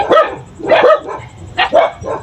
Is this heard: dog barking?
yes